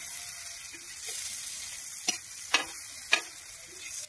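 An egg fries in a pan with a steady close hiss, broken by three crisp scraping knocks as it is flipped over.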